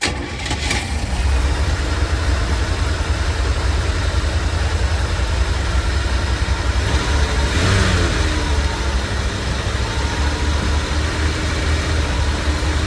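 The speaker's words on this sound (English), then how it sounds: "I can feel the engine vibrating." A converted camper van, formerly an impounded drug-runner vehicle, idles with a steady, loud mid-pitched engine drone, a brief start-up or rev at the beginning and a small throttle swell near the middle, with no talking.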